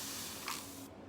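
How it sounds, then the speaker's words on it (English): A continuous-spray water bottle emitting a steady, close hiss of fine mist that stops abruptly near the end, quiet and alone. "it sprays, like you press it, and it'll let out a spray until the whole water unit is empty"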